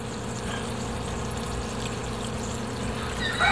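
Water trickles steadily into a coconut milk stew, a soft continuous pouring wash that runs for a few seconds before a brief louder splash at the end.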